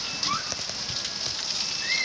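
Steady rain falling outdoors on a street, a soft continuous hiss with faint scattered drips, fairly close and even throughout.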